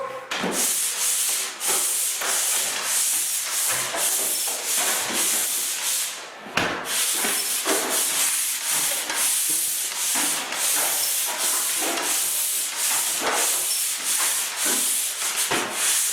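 A drywall ceiling angle is sanded by hand in long repeated rasping strokes, close and steady with a brief pause partway through.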